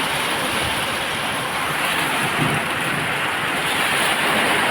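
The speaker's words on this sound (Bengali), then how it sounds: "বাইরে সেই পরিমাণে বৃষ্টি হইতে আছে" Heavy rain from a Kalbaishakhi storm pours down outside a closed room, a loud, dense and unbroken roar that holds steady throughout with no voices.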